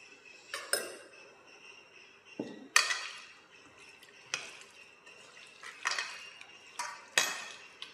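Chicken pieces being stirred in a cornflour marinade for spicy crispy chicken, a series of close, wet squelching stirs and metal spoon clinks against a bowl at an uneven rhythm, with no talk.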